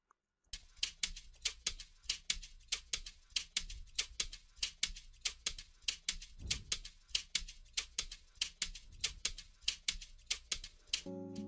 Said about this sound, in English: Next up, we have the custom Afrobeat shakers loop,